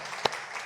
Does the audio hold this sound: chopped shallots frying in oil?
no